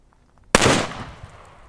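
A single loud, sharp report from a Smith & Wesson .460 XVR revolver rested on a table, bursting out of silence and trailing off into a ringing decay.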